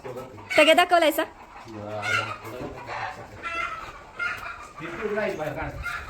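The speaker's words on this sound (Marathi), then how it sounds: "कोंबड्यासनी पण आवडल्या नाही बाहेर गेलीत" Chickens cluck nearby in a series of bursts, with a louder squawk at the start, while people talk over them on a farm.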